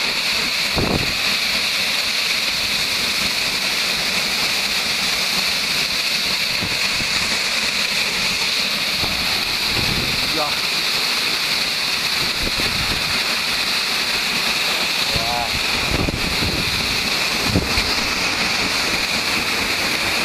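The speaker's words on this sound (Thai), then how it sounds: "ที่ยืนอยู่หน้าน้ำตกนะครับ" A waterfall at Vang Vieng, Laos, heard from right in front of it: a loud, continuous broadband roar of falling water with steady hiss and rumble throughout, faint occasional knocks underneath, no speech.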